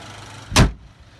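A 2019 Chevy Silverado with a 2.7L turbo four-cylinder idles quietly as its hood closes with a single heavy thud; the engine's low, soft hum continues before and after.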